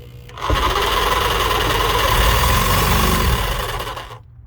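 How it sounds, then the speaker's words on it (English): Power tool cutting during an RV auxiliary tank install: after a brief lead-in the loud motorized buzz starts abruptly, runs steadily for about three seconds, then tapers off and cuts out, with no talk. "I'm gonna cut it about right there."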